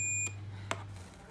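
A multimeter set to continuity range beeps faintly as its probe touches a pin of an injector IC during electronics repair, a short tone followed by a brief click, with a low hum underneath.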